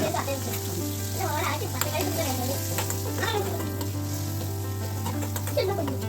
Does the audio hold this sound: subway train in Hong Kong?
no